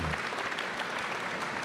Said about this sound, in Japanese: 入れてほしいっていう拍手が、 拍手が来てますね。